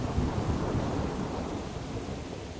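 A thunderstorm rolls through in the medieval video game Kingdom Come Deliverance, a deep continuous rumble of thunder with steady rain hiss underneath, fairly close and heard alone.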